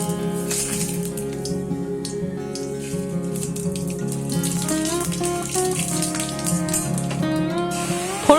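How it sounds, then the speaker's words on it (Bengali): Three dried red chilies, two bay leaves and a spoon of panch phoron crackle in hot oil as tempering for drumstick-leaf dal, a steady rain-like sizzle over a continuous tonal backdrop. "তেল গরম হলে ফোড়নে দেব 3টে শুকনো লঙ্কা, 2টো তেজপাতা আর 1 চামচ পাঁচফোড়ন।"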